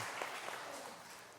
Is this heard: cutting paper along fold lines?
no